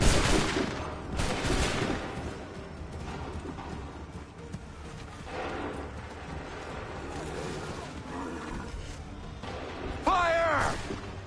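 A gunfire volley in Assassin's Creed 3, several bursts of musket fire scattered through the scene, with shouted voices and horse hooves among the battle noise.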